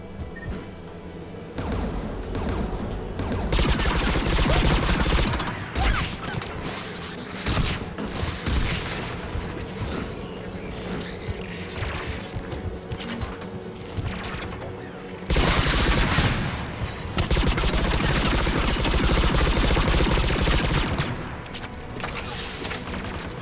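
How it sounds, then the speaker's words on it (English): Anti-aircraft guns in Mass Effect 3 pound away in sustained, loud bursts of heavy gunfire and booms, with brief lulls before the barrage resumes near and dense. "AA guns ahead."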